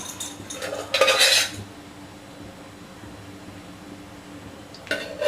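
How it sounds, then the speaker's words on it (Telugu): A large pan is set on a stove, giving a brief loud metallic clatter early on and another short scrape of cookware near the end, over a faint steady background hiss. "ఒక పెద్ద ప్యాన్ అయితే పెట్టేసుకుందాం తర్వాత కొంచెం హీట్ కాగానే ఆయిల్ అయితే పోసేసుకుందాం"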